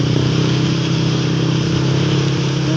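A motorcycle engine labouring steadily as it climbs a hill near Bacolor, droning loud and close with a constant mid-pitched hum and wind noise, no speech.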